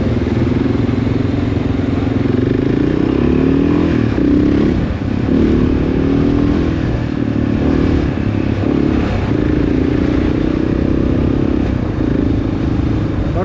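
Off-road motorcycle riding on a Hanthana bike trip in Sri Lanka, with a steady loud engine drone and rattling clatter close by throughout, no talk.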